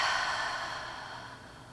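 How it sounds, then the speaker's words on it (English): A slow breath exhaled out through the mouth during yoga practice, a soft, breathy whoosh that fades steadily, close and alone. "take in a little more air and exhale out your mouth"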